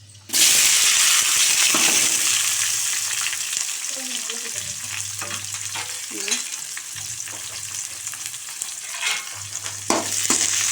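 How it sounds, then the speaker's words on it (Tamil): Onions and tomatoes dropped into hot oil with fenugreek for eral kuzhambu, a loud sizzle bursting up at once then settling into steady frying, with occasional stirring clinks and scrapes, close and without talk. "வெங்காயம் தக்காளி போடுறேன்."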